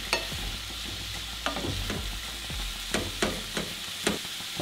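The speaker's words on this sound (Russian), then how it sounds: "Вместе с луком обжариваем где-то минуты 3." Mushrooms and onions fry in a pan with a steady sizzle, broken by repeated scraping stirs and light knocks of a utensil against the pan, close and alone without talk.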